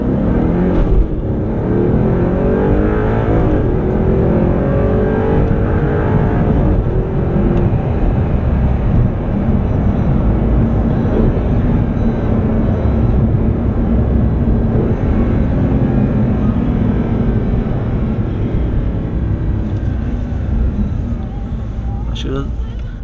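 Audi R8 pulling away from a standstill in sport mode with manual shifting, a loud, sustained engine roar building steadily close up, with someone talking over it.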